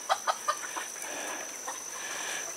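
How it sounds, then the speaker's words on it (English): A flock of farm chickens clucks outdoors, a few sharp close clucks at the start giving way to softer scattered calls under a faint steady hiss. "There goes the herd of chickens."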